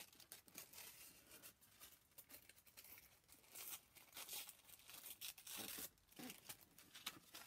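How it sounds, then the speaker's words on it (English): A sheet of paper being torn by hand while making a paper bag clutch and journal, quiet ripping and crinkling in several uneven bursts, close by, with no one speaking. "we can always tear it"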